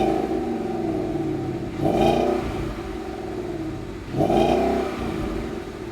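A 2015-2017 Mustang GT with a Roush axle-back quad-tip exhaust revs twice over a steady idle, each blip rising sharply in a throaty roar and then falling back, recorded up close.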